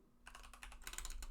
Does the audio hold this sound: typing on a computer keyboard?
yes